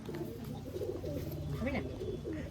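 Desi pigeons in breeding season at a home loft in Bolpur give low, steady throaty coos that run continuously, with faint voices beneath.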